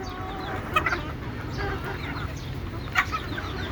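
Desi chickens cluck a few times at close range over a dense, steady background of farmyard noise, with sharper bursts of clucking near the start and again toward the end.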